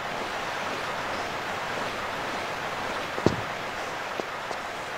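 Steady rushing torrent water from a river gorge in Tomb Raider 3 on PlayStation, a broad continuous roar filling the whole clip, with a few faint splashy ticks near the end and no talk.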